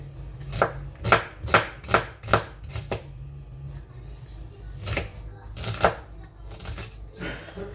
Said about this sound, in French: je vais couper les oignons, pareil, un gros morceau